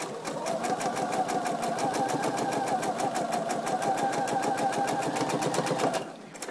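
A sewing machine runs steadily along the edge of a fabric piece, its fast, even needle clatter repeating close and clear for about six seconds before stopping abruptly, with no talking.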